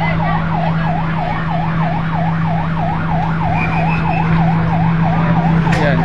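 A fire truck's siren wails in a fast, steady up-and-down rhythm as the third fire engine arrives at a blaze in Barangay Bulabog West, Sorsogon City, loud and close over a constant engine drone.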